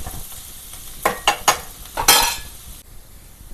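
Broad bean seeds frying in a pan, a few sharp stirring scrapes followed by a brief burst of hissing sizzle, then quiet.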